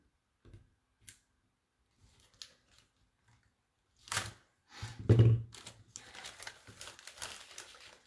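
Scissors snip through a paper treat bag at a craft table, with a few faint isolated clicks first and then a louder cluster of cutting and crinkling bursts in the second half.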